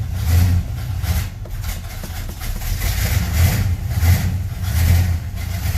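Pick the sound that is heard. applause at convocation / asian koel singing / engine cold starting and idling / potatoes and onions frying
engine cold starting and idling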